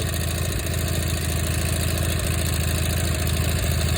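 Cub Cadet 682 garden tractor engine idling close by with a steady, rapid mechanical chug and even loudness throughout; no voices.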